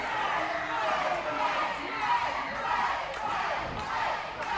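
A hometown wrestling crowd roars in support of Blade Boudreaux, a steady, dense wash of cheering that runs throughout beneath a commentator's voice.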